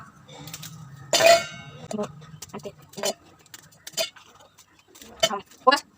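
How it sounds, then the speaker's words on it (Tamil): Broken Oreo biscuit pieces drop into a mixer jar, giving a scatter of sharp, close clinks and taps at irregular intervals, with a louder clatter early on and quiet gaps between. "இப்போ இதில் எல்லா பிஸ்கட்டையும் அப்படியே சின்ன சின்னதாக நொறுக்கி போட்டலாம்"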